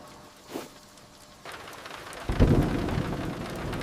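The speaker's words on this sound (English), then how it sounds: "Is that rain?" Light rain patters softly, then swells into a heavier, louder downpour with a low rumble underneath.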